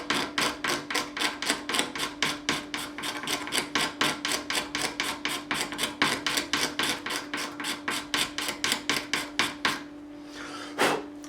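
A blade with its edge taped scrapes glue off a vintage EY50-CS electro-acoustic guitar, giving steady, rhythmic rasping strokes, close and fairly quiet, about three per second, before stopping near the end.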